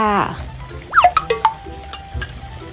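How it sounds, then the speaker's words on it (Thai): A spatula scrapes and clinks in a pan as homemade curry paste is stir-fried with pork belly, a few quick stirring strokes over a low sizzle, with someone talking briefly at the start. "ผัดเลยจ้า ให้หอมหอมไปเลยจ้า"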